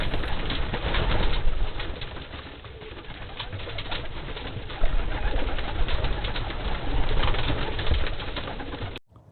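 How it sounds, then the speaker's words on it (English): Racing pigeons coo together inside their loft, a continuous close murmur of overlapping calls with occasional wing flutters, heard alone without talk. "Looks like the birds are all in the loft."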